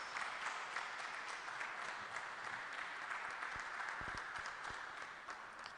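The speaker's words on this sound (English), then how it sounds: "Let's give him a round of applause, please." An audience at a Christian forum on Ghana's governance applauds a speaker coming to the podium, a continuous, even wash of many hands clapping, heard at a distance and fairly quiet, without talk.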